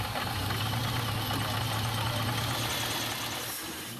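The supercharged 4.7-litre V8 of a Cord 812 SC runs at a steady idle, a close, even low rumble with a slight knocking texture that fades a little toward the end.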